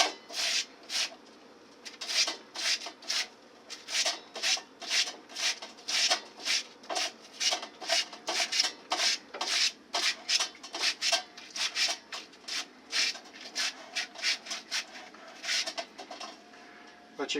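Raw potato rubbed on a grater for German potato pancakes, a close, rhythmic rasping of quick repeated strokes, roughly two to three per second, running steadily throughout with brief pauses.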